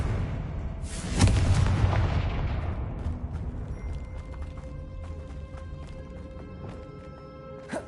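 A Confringo fire spell from Hogwarts Legacy bursts loud with a sharp booming blast near the start, then rumbles and crackles away over several seconds, with faint clicking game sounds trailing after.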